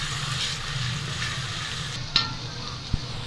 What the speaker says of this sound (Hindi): इसको तब तक आपने फ्राई करना जब तक कि अदरक लहसुन की स्मेल नहीं ख़त्म हो जाती